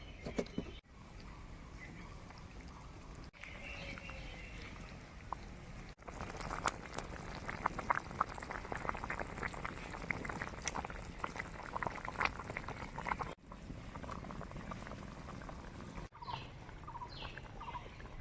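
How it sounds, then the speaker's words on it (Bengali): Curry broth for a pointed gourd and fish dish bubbling at a steady boil in a pan, soft continuous burbling with small pops, heard close and alone. "ঝোল খুব ভালো করে ফুটে গেছে"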